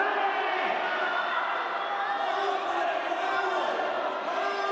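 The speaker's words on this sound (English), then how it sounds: "Crowd is really getting loud." A large crowd at a youth bouldering competition roars loudly and steadily, a dense wash of cheering and shouting with no breaks.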